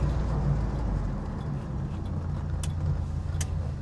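A Ford Pinto drives along with a steady, close engine and road rumble, tire rubbing blended into the continuous low drone, with a couple of brief high clicks near the end.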